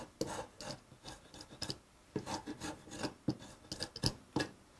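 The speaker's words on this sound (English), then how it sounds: "I got a couple passes right on the edge with a spoke shave just to kind of clean that up a little bit" Spokeshave shaving the live edge of an elm board, a run of short, dry rasping strokes in uneven rhythm, close and fairly quiet with no voices.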